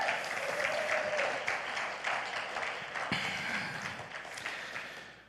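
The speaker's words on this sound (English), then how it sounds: "So let's give them a big round of applause." A church congregation applauds steadily for several seconds, a dense mid-distance clatter of many hands that fades slightly toward the end.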